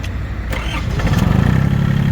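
An Iseki TA-230 four-wheel-drive mini tractor with a tiller attachment cranks briefly, then its engine catches and settles into a steady, close, loud idle with a throbbing low rhythm.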